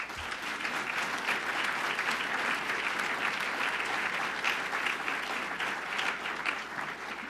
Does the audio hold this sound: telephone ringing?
no